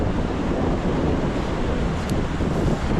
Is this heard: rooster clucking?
no